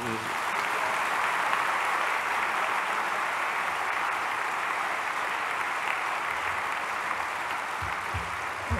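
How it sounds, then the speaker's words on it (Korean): A church congregation claps steadily to welcome the choir, a continuous, even wash of applause filling the room at a constant loudness throughout. "박수로 맞이하겠습니다"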